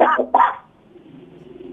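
Two quick coughs close by, back to back, followed by a quiet pause with faint background noise.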